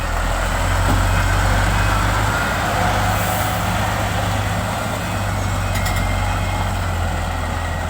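FAW JH6 460hp trucks on a narrow Sumatra road: a loud, steady diesel engine rumble close by, with a constant low drone and brief higher mechanical whines, and no talking.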